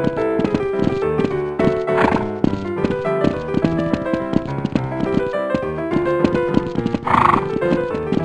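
A horse in the video game Half-Life: WANTED! whinnies loudly twice, with steady hoof clip-clop and a busy layered background running underneath throughout.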